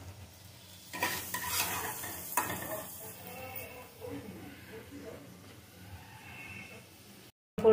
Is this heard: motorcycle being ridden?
no